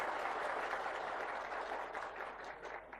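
An audience claps together at a public speech event, a dense, fairly faint wash of applause that holds steady for a few seconds and then tapers slightly.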